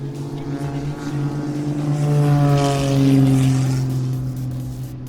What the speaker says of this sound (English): I didn't know they sent packages in prop propeller planes